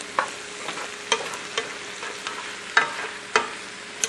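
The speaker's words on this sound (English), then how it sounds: "Let's give that a little stir around." A spoon stirs coarsely chopped Roma tomatoes in a pot for southwest-style black bean soup, producing soft scrapes and clacks every half second or so over a gentle background sizzle.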